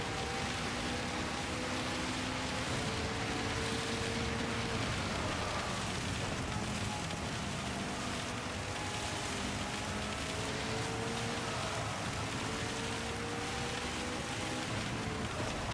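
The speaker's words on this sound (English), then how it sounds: "Sometimes when it's raining, it goes super loud." Steady rain noise while racing in Gran Turismo 7, a continuous broadband hiss lasting throughout, with faint engine tones running underneath.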